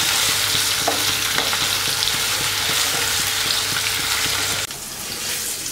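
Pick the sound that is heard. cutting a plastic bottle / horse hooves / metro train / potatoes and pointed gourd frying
potatoes and pointed gourd frying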